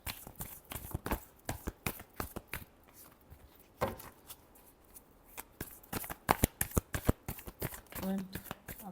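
Tarot cards are shuffled in quick, crisp riffles and slaps, close and fairly loud, in irregular bursts. Faint voice sounds mix in with the shuffling.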